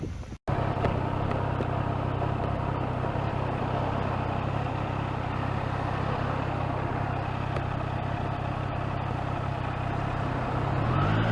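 A 2021 Triumph Trident 660 motorcycle idles on a side street with an even, steady engine hum throughout, preceded by a brief click at the very start.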